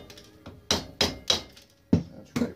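About six light metallic hammer taps, irregularly spaced, ringing briefly against a Honda ATV drum brake part, close up.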